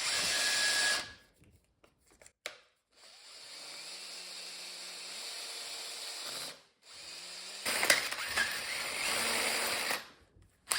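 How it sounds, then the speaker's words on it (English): A hand drill whines in bursts, grinding holes into cast iron, with short pauses between runs; the motor pitch shifts as it bites. "now it's just to drill some holes in this and tap it"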